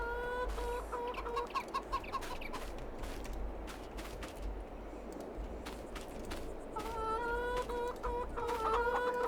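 Chickens in Farming Simulator 22 cluck in short repeated bursts, several birds chattering close by over a low steady farm ambience, with no talking.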